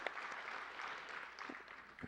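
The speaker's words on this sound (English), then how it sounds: "join me in a round of applause for our teachers" Steady applause from a graduation ceremony crowd, dense and continuous clapping filling the whole moment with no voices standing out.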